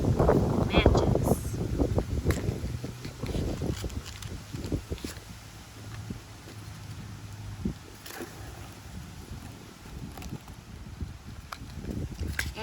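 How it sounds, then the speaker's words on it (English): Outdoor wind buffets the microphone in gusty, rumbling bursts throughout, strongest at the start, while someone sets up a bee hive smoker fire with pine, paper and matches nearby. "You can probably hear the wind."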